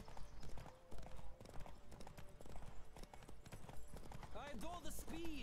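Horse hooves clatter in a quick clip-clop during a horse race in The Witcher 3, with game voices and a whinny-like call near the end.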